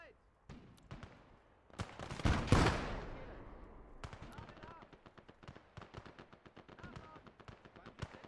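Bursts of Bren machine gun fire in the WWII strategy game Gates of Hell: Ostfront, rapid rattling volleys with a loud explosion-like swell early on, then steady repeated shots.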